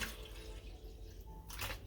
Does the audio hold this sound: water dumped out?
yes